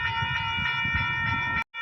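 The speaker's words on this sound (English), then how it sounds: "I definitely hear a train" A train passes some distance away, heard as a steady low rumble with sustained tonal hum that runs without a break, then drops out briefly near the end.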